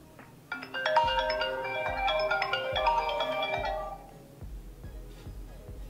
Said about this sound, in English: choose the reflection ringtone to apply it